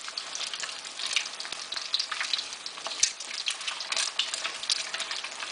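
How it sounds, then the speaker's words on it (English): An egg fries in hot oil in a pan while the oil is pushed over its top, giving a close, steady, crackling sizzle with popping spatters and no talking. "push the hot oil on top of the egg, so the top part of the egg cooks as quickly"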